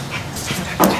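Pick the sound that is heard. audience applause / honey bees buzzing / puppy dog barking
puppy dog barking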